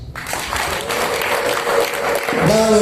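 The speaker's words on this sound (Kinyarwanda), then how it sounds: "tubiha amashyi" Wedding guests clap throughout a ceremony in Rusizi, a dense, steady patter that stays near and loud, while a voice speaks over the applause toward the end.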